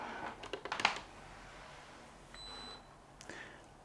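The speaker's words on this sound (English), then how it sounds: "Yep, it just went and beeped." A SwitchBot Smart Humidifier Series 2 gives a short, faint electronic beep as it powers up after being plugged into the mains, heard over quiet room noise and a few soft handling clicks.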